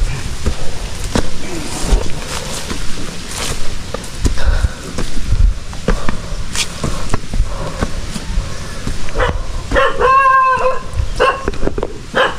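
A dog barks on a rural backyard farm in the Philippines amid clattering, footsteps and outdoor noise, with a short burst of sharp, close yelps and barks standing out near the end.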